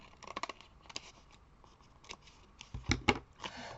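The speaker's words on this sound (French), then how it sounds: "Je vais découper ce qui dépasse." Scissors snipping lace trim at the edge of a handmade card, a few quiet irregular cuts with small rustling and handling noises between them, growing a little louder toward the end.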